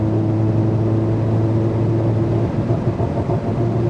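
A Mercedes-AMG SL43 engine held at high revs on the autobahn, a steady droning hum with strong sustained tones and a slight shift partway through, loud and close from inside the car without talk.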